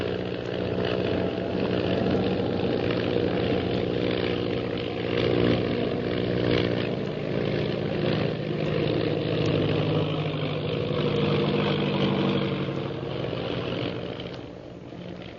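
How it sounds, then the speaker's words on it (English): A propeller plane engine drones continuously at a steady, loud pitch as the plane performs aerial stunts, with a slight waver in intensity and no voices. "Shanghai Lil continues her attempt to escape her pursuer by stunting her plane."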